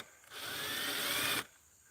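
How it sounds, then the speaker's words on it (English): A power drill bores a starter hole for a jigsaw, one steady whirring burst of just over a second at close range, starting and stopping abruptly. "start a hole on the side where I can put the jigsaw in there with this drill bit"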